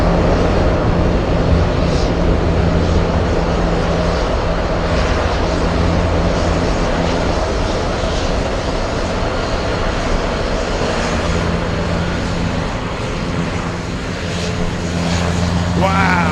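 A FedEx aircraft moving at Anchorage airport, a steady low engine rumble and hum that holds throughout at moderate loudness, with a voice talking over it.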